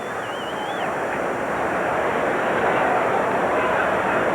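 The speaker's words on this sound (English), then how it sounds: "It is a bit windy." Steady wind at a Colorado Rockies baseball game in 1997 rushes and buffets the microphone in a continuous broadband roar, with a faint voice in the background.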